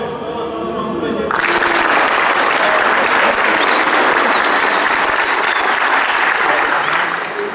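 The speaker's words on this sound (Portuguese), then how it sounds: "uma salva de palmas para o Ledir" A crowd at a school gincana results event breaks into loud, sustained applause right after a voice stops speaking, the clapping dense and steady, then fading slightly at the end.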